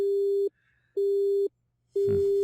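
Telephone busy signal after a call is hung up: three loud, steady tones of about half a second each, separated by equal silent gaps, close and alone, with a brief rustle at the end.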